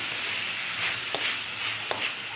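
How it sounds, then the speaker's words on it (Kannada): Egg rice ingredients sauté in a pan with a steady sizzle and frying hiss, broken by two sharp clinks of a spoon against the pan, close and constant. "ಚೆನ್ನಾಗಿ ಬಾಡಿಸ್ಕೊಂಬಿಡೋಣ"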